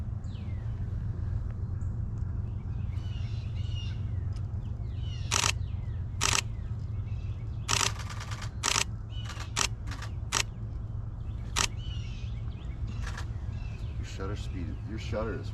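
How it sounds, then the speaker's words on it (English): Camera shutters fire during bird photography outdoors in a city park forest, sharp clicks in short bursts and single shots over a low steady rumble, with birds calling faintly in the background. "Your shutter is way quieter than mine."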